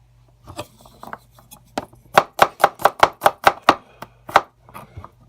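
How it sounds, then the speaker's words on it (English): A knife rough-chopping garlic on a cutting board: a few scattered taps, then a quick run of about ten sharp, close chops in even rhythm, tapering to a couple of final strikes. "I'm just gonna rough chop the garlic."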